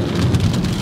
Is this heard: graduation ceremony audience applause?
no